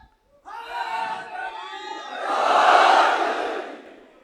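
A large crowd at a Muharram majlis at an imambargah shouts a chanted slogan in unison, voices rising together into a loud swelling roar after a brief silence, then fading.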